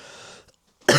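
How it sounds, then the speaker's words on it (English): A man who is feeling ill gives a single sudden, loud cough at the very end, after a stretch of quiet low room noise. "That wasn't a fake cough."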